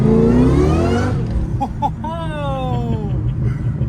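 A 500 HP supercharged 2003 Terminator Cobra engine revs hard at about 75% throttle, then falls away. Blower whine sweeps down as the revs drop, and a voice sounds briefly over the engine.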